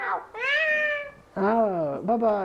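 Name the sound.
cat meowing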